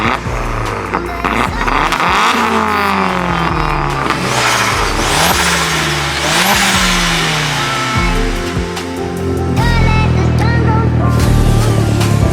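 A Vauxhall Astra GSi Mark IV engine revs hard on the road, rising and falling through several loud climbs in pitch between gear changes, with a heavier, sustained surge near the end.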